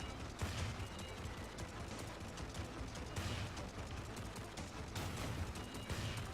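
Continuous rapid gunfire from shooting at an enemy in the space game Vostok Inc, a steady dense volley of shots that swells slightly in bursts, fairly loud with no talking.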